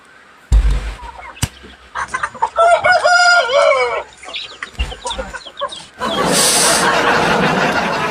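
A rooster crows loudly and close, with clucking hens around it, a sharp squawk first, then a long drawn crow followed by more clucks and a burst of noisy flapping at the end.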